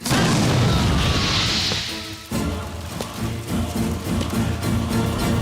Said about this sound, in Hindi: मिनिस्टर बद्री प्रसाद के फार्म हाउस में आज दोपहर को एक बम धमाका हुआ